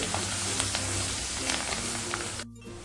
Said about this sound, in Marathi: मसाला चांगला तेलामध्ये परतवून घ्यायचा आहे